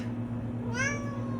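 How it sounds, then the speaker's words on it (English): A single cat meows once, rising then falling, over a steady electrical hum from an old RCA briefcase television being powered up on 120 volts. "slight chance of meowing in the background"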